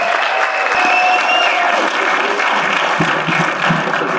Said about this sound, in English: Round of applause, please, for our amazing performers starting out.